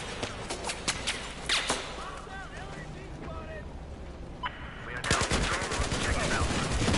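Battlefield 4 China Rising video game gunfire: bursts of rapid automatic shots, with heavier volleys toward the end, while people talk over the action.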